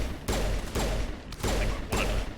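Pistol fire in the Mass Effect shooter game comes as bursts of loud, broadband cracks, roughly four evenly spaced volleys each followed by a short gap, over a continuous rumble of combat noise.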